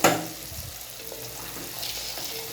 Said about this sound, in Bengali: একই রকমভাবে আগেরটার মতোই এটাও ভাজবো।